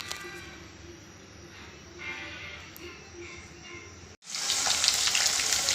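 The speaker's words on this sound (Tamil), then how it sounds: "எண்ணெய் நல்லா காயட்டும், கடுகு போட்டுக்கலாம்." Mustard seeds dropped into hot oil for a garlic and curry-leaf tomato thokku, starting with a quiet low background and then bursting into loud, dense sizzling and crackling that fills the last second and a half.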